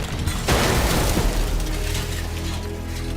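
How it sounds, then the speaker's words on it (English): An explosion in Warhammer 40K Chaos Gate Daemonhunters bursts with a loud, dense blast that booms for about a second before settling into a low rumble. "Show us the explosion."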